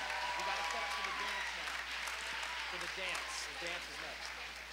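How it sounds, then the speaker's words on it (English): Audience applause at a Christian music and speaker festival, a steady wash of clapping from a crowd, moderately loud and sustained with no talk over it. "let's give them another quick round of applause"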